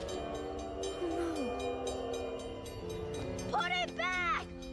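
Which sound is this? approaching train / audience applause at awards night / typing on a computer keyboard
approaching train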